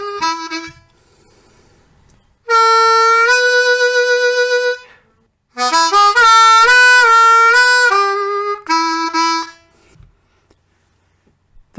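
Blues harmonica playing an opening phrase, bright sustained notes in bursts with pauses between, close and loud and with no voices.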